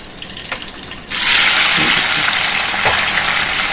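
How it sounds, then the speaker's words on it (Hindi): Tomatoes tip into a hot pan for a tinda curry and burst into a loud, close sizzle that jumps up suddenly and keeps frying steadily, with a couple of soft stirring knocks and no voices. "और अब हम इसमें डाल देंगे अपने टमाटर"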